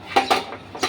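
Clatter of oven trays and metal utensils being handled during oven cleaning in a home kitchen, three quick loud metallic clanks close by with no talk.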